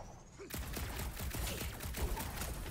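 Rapid gunfire in Marvel's Guardians of the Galaxy, a dense volley of crackling shots that bursts in abruptly after a short quiet lead-in and keeps up a fast, uneven rhythm to the end.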